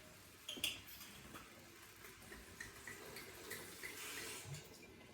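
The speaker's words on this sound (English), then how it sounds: "we're going to add 1/2 cup of white wine" White wine poured into a pan of cauliflower and pear for soup, a soft, uneven trickle and splash at close range, fairly quiet, with a small clink near the start.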